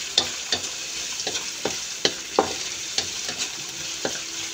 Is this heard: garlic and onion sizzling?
yes